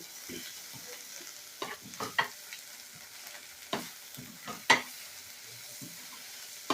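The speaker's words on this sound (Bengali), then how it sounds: "এই মশলাটার সঙ্গে লাচ্ছাটা কিন্তু কষিয়ে নেবো" Lachha noodles being stir-fried with spice masala over a low flame, with scattered scraping stirs and soft clacks of a spatula against the pan, spaced irregularly over a quiet low sizzle.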